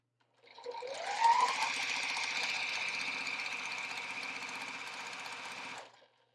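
A sewing machine stitching quilt blocks with a quarter-inch seam runs in one steady, close, even whir for about five seconds with a rapid needle chatter, starting and stopping cleanly.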